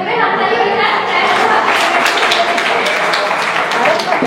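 An audience claps loudly and continuously at a Bengali stage talk, the dense applause filling the whole stretch with scattered cheers and chatter mixed in.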